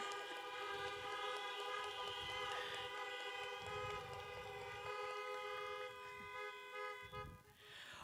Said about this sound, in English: Can I get some honks for the unions